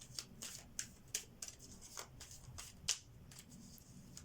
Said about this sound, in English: I usually shuffle until something falls